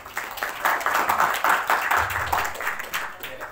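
Audience clapping for a speaker named Virgi, a steady patter of many hands held at an even level for a few seconds, fairly close with no talk over it.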